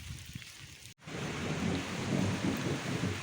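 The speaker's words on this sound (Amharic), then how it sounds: "ዝናቡ እየባሰ ነውና ልግባ።" Heavy rain pouring steadily on a rainy day in Adigrat, Tigray, with deep rolling thunder rumbling underneath; a sharp dropout near the start, then a dense, continuous downpour close by with no voices.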